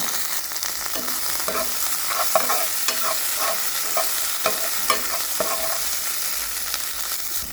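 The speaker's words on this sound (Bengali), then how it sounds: "এক মিনিট মতো নাড়িয়ে নিয়েছি জিঞ্জার গার্লিক পেস্টটাকে" Ginger garlic paste is stirred into fried onions in a hot pan, the utensil scraping in uneven strokes over a constant oil sizzle, close and fairly loud.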